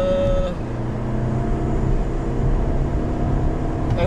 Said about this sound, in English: 0 to 60 in the TDI in a very, very short amount of space